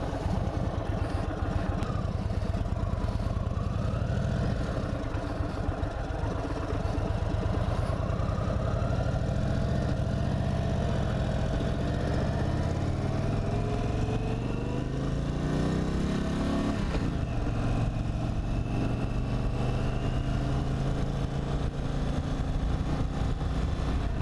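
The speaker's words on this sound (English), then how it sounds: "I turned the power mode off trying to turn the bike on." An Indian Super Chief Limited motorcycle engine runs steadily close by, a loud continuous low rumbling idle with slight rises in revs and no talking.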